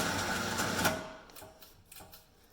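Polaris winch motor reeling in its cable, a whirring mechanical drone for about a second before it cuts out and leaves only faint, scattered clicks and handling noise.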